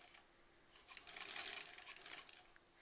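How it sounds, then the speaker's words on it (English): Sewing machine stitching quilt block seams for a sampler block, a faint short run of rapid needle stitches that rises for about a second and then fades, with no talk. "we'll just do a few stitches to get it started"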